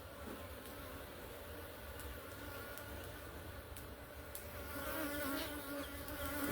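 Bees buzz steadily around an open hive during beekeeping work, a dense continuous drone of many insects close by that swells slightly toward the end, with faint clicks and handling noises and no talk.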